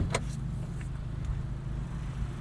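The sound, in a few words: Acura Integra Type S 2-liter turbocharged four-cylinder engine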